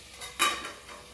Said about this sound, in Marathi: यावर मी झाकण ठेवत आहे